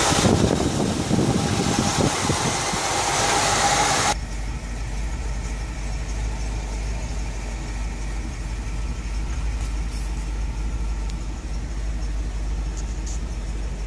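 A fully rebuilt Cadillac Fleetwood engine idles close by. A loud, broad rushing noise covers the first few seconds, then a steady low engine hum runs on alone.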